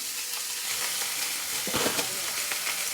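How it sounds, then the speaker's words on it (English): Oxtail pieces sear in a hot pan for Jamaican stew, a dense, even sizzle with a few brief spatters and stirring sounds, close and continuous. "adding the oxtail now to the pan. These are going to sear on both sides"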